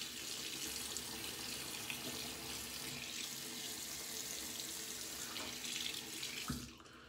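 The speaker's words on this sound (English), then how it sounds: "Let me rinse my face real quick." A bathroom tap runs steadily as water flows for rinsing, a continuous close hiss and splash that cuts off near the end.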